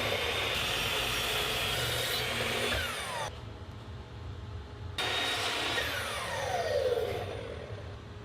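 A saw cuts a wooden live edge shelf to final length in two long, steady rasping passes separated by a short pause, close and loud.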